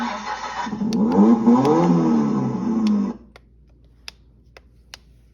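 Battery-powered ride-on toy car starting up: a whirring electric motor rises and wavers for about three seconds, then cuts off, leaving a quiet background with a few sharp clicks.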